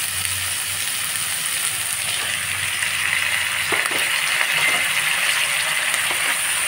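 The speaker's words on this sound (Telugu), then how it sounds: "బాగా వేయించుకున్నాం" Tomatoes frying in a pan, a steady bright sizzle holding at an even level throughout, with a few faint clinks of a utensil against the pan partway through.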